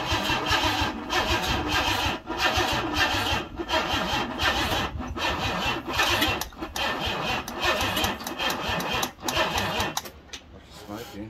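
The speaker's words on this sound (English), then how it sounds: "I've set to crank the engine around a little bit by hand." A Ford Cortina Mk4 Ghia with a 2.3 V6 engine and a sticking starter motor cranks steadily and rhythmically for about ten seconds, loud and close, then cuts off without firing.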